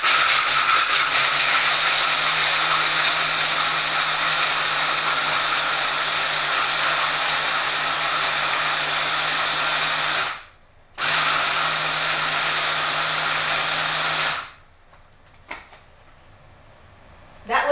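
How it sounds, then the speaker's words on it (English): Small Cuisinart bullet-style food processor chopping raw cashews and garlic, a loud steady motor whir that runs for about ten seconds, stops briefly, runs again for a few seconds, then gives way to quiet handling sounds. "So I'm gonna go ahead and put my little Cuisinart cup, and any little bullet type processor will work for me."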